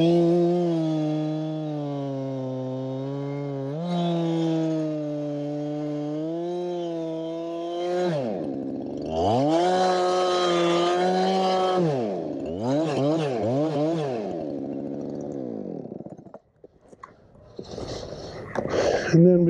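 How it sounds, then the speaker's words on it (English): Chainsaw cutting through tree stumps, the engine idling then revving hard in repeated bursts as the chain bites into wood, close and loud, with a final revving flurry near the end. "see if I can get through a few trees without getting a saw stuck"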